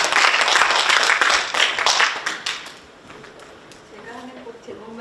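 An audience at a book launch in San Francisco gives loud, dense applause to welcome a guest. It holds steady for about two and a half seconds, then fades away, and a voice begins speaking near the end.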